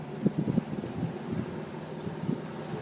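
Motorboat engine running near the Golden Gate Bridge with a touchy throttle, a low steady drone with uneven surges and bumps against wind and water noise, close by.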